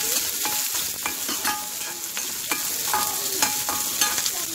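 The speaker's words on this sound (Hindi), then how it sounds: "इसे थोड़ा हम 2-3 मिनट भून लेंगे।" Chopped onion and green chillies with dried red chillies sizzle steadily in a pan, a spoon scraping and clinking through them in repeated stirs, close and continuous with no voices.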